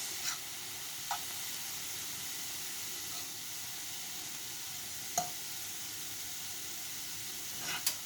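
Soy sauce sizzles in a hot skillet for an egg roll filling: a steady, fairly quiet frying hiss with a few sharp pops and clicks scattered throughout.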